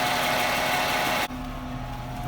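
A 1996 Jaguar XJ6 engine runs steadily close by with a constant idling drone and no talk; the sound drops abruptly partway through and then continues more quietly.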